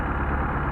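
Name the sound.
Mercedes 190SL engine with Solex carburetors idling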